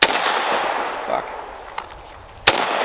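Gunfire in a shooter video game, a blast at the start followed by a sustained rushing noise and a second sharp shot near the end, loud and close.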